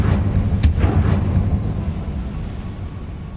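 A Confringo fire spell from Hogwarts Legacy goes off as a deep rumbling boom with a sharp crack near the start, then a low roar that slowly fades.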